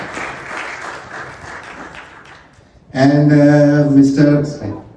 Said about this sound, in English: let me introduce to all of you here with your round of applause